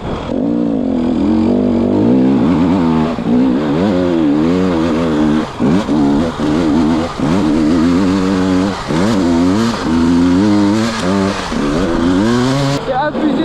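A 300 enduro dirt bike's two-stroke engine revs hard and repeatedly, loud and close, rising and falling in pitch as the throttle is blipped and held throughout.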